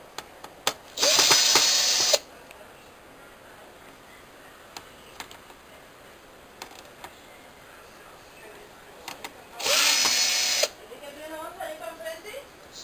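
Power drill backing screws out of a Korg 01W/FD keyboard during a repair, two separate whirring bursts of about a second each with small clicks and handling noise between them, close by.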